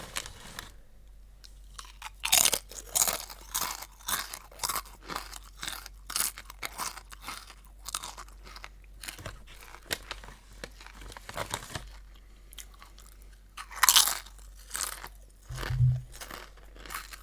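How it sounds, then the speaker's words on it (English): Crunchy potato chips from a family-sized bag being bitten and chewed up close at a snack mukbang, with a steady run of crisp crunches, some louder bursts and a bit of bag crinkling, and no talking. "Let's have a little more chips"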